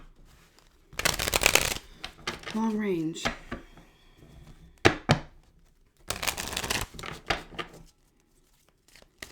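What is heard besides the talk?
shuffling tarot cards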